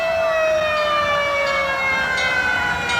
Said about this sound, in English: Hand cranked siren.